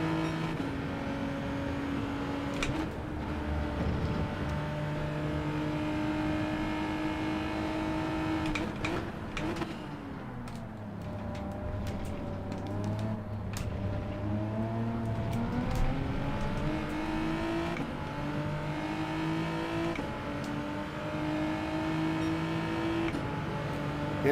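The Genesis race car's engine drones steadily through a lap of Suzuka in Gran Turismo 7, its pitch climbing and falling with gear changes and throttle, with occasional brief clicks and no talk.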